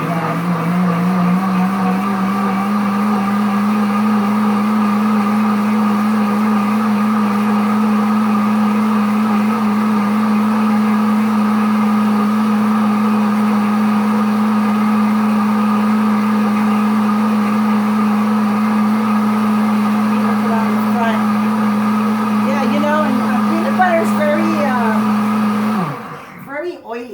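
A Pampered Chef Deluxe Cooking Blender runs its cleaning function on a kitchen counter, giving a steady, loud motor whine that holds evenly for over twenty-five seconds before winding down at the end.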